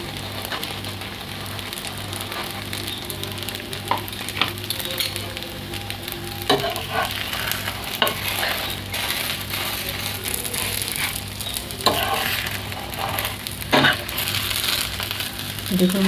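Chicken pieces sizzle and fry steadily in a hot pan, a continuous crackling hiss with occasional louder pops and utensil knocks, close and alone without talk.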